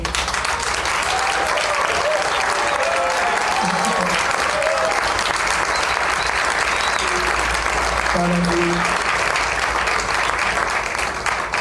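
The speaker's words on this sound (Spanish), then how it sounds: "pido un enorme aplauso" Sustained applause from an audience at a 40th-anniversary talk for a composition workshop, loud and steady throughout, with a few brief tonal sounds and voices faintly mixed in.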